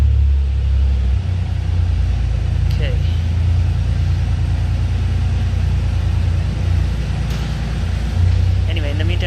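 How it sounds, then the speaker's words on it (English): A Porsche engine rumbles loudly and steadily at idle, with a low heavy drone and slight shifts in pitch, while someone speaks briefly over it. "let's just let this Porsche make its noise"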